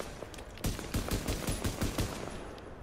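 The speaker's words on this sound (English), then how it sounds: "Let me shoot off a signal." A signal flare fired in the video game The Division, heard as a series of sharp, rhythmic bursting shots at close range, about ten quick reports in a row over a low background.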